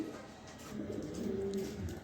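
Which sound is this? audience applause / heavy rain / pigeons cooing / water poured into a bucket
pigeons cooing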